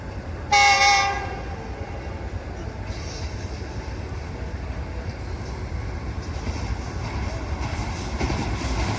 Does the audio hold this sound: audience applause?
no